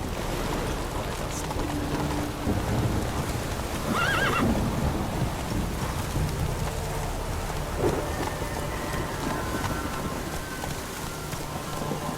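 Roach, a horse in a video game, whinnies clearly around four seconds in, over a steady bed of rain, soft hoofbeats and distant rumbling, with no talk.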